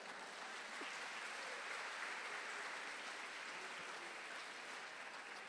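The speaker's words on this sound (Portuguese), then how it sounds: "Você pode dar um aplauso para Jesus?" Church congregation applauding at a service, a steady, dense wash of clapping hands that holds evenly throughout with no pauses.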